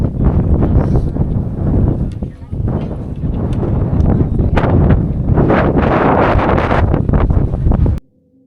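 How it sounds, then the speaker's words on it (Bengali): Strong gusting wind buffets the microphone atop Parasnath Hill in Jharkhand, a loud continuous roar with surging gusts that cuts off abruptly near the end. "বিভৎস রকম হাওয়া, তাতে আমি এক ফোঁটা কিছু করে উঠতে পারলাম না"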